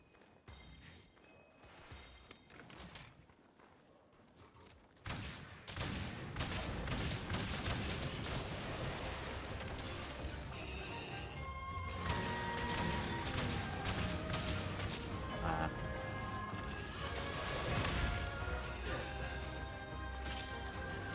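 Heavy bowgun firing fire ammo in Monster Hunter Rise, a dense, loud barrage of rapid shots and impacts that starts quieter, then surges after a few seconds and keeps pounding continuously amid game effects, with some talk mixed in.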